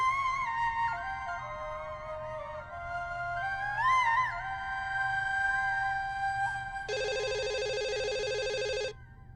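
A telephone rings with an electronic warbling tone that shifts pitch, followed by a dense buzzing trill near the end, clear over faint background hum.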